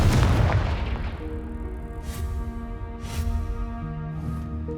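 A loud booming fire-blast explosion from the Confringo spell in Hogwarts Legacy, opening with a heavy low burst that rumbles and decays, followed by fainter crackling echoes.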